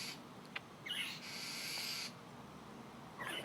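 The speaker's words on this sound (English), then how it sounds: "There's the big bird." A large bird, probably an owl, calls in two or three hooting bursts, faint and somewhat distant, over a quiet outdoor background with no talking.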